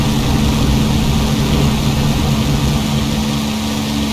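A small retractable-gear airplane engine roars loud and steady during the takeoff roll, a dense continuous drone with a low propeller hum holding throughout and no talking over it.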